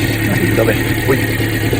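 Subaru Sambar engine idling after a carburetor cleaning, a steady low rumble close by, with short bursts of voices and faint clatter over it.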